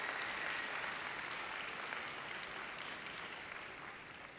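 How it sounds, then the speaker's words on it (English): A large audience at a conference opening ceremony in Nashville keeps up a broad, even wash of clapping. It sounds fairly distant and fades slightly toward the end. "how about one more round of applause?"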